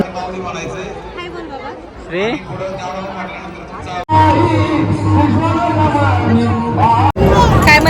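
Dense crowd hubbub inside the crowded Bhagyeshwar temple, steady overlapping voices and chatter, growing louder and fuller partway through, with a person speaking over it.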